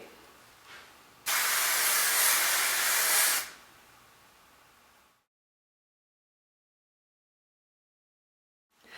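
One long steady hiss of aerosol hairspray up close, lasting a couple of seconds, with a fainter hiss trailing off before silence.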